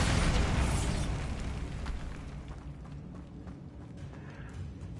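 A Bombarda spell explosion from Hogwarts Legacy booms at the start, then decays into a rumbling tail and scattered debris over several seconds.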